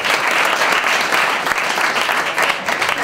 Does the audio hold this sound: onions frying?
no